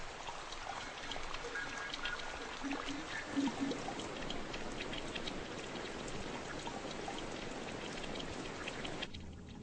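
Steady rain falls over a town of many windows, a dense continuous hiss with scattered drops and splatters, constant and fairly close throughout, easing off only at the very end.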